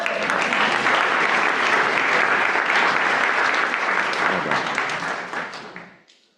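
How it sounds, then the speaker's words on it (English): A church congregation on a Sunday service breaks into broad, sustained applause that holds strong for about five seconds before tapering off and fading to quiet at the end. "Can we give them a quick round of applause?"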